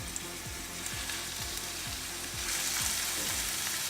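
Onions and garlic sizzle steadily in hot grapeseed oil in a pan, a continuous close frying hiss with a regular tapping or stirring rhythm underneath, growing a little louder near the end.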